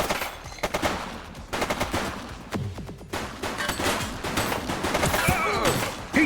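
Gunfire in the police video game The Precinct, rapid bursts of loud, close shots coming in clustered volleys with brief pauses between them.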